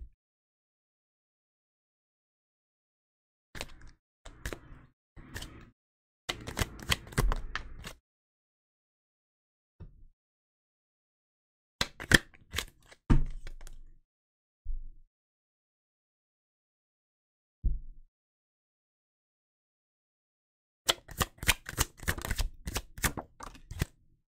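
Bursts of crisp tarot card shuffling and riffling come in clustered runs separated by silent pauses, close and fairly loud.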